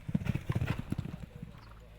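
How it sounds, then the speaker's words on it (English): Racehorses canter on a polytrack gallop at a training yard, producing a close, rhythmic run of muffled hoofbeats that fades slightly toward the end. "The workers have all had a canter up the poly track."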